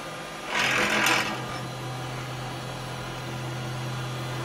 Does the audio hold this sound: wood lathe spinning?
yes